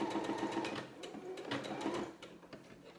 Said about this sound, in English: you're sewing right along those marked lines